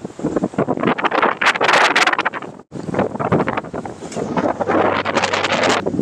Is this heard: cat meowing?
no